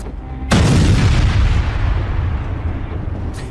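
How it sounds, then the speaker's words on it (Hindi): A heavy artillery blast erupts suddenly in Donbas, eastern Ukraine, followed by a long rumbling roar that slowly fades, with a second sharp report at the very end. "दुश्मन के ठिकानों को टारगेट करके भीषण गोलीबारी हो रही है।"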